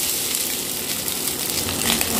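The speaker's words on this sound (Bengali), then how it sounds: "চালটা দেওয়ার পরে এবার ভালো করে আমি সমস্তটা ভেজে নেব" A steady, loud sizzle fills the clip as marinated basmati rice fries in a hot pan for pulao, with faint stirring scrapes.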